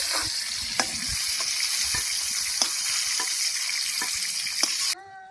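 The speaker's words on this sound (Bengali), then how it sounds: "উচ্ছে ভেজে নিয়েছি এবার তুলে নেব" Bitter gourd fries in fish oil in a wok, giving a steady bright sizzle punctuated by several sharp scraping stirs, then cutting off abruptly near the end.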